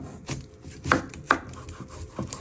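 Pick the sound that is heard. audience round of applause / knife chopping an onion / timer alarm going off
knife chopping an onion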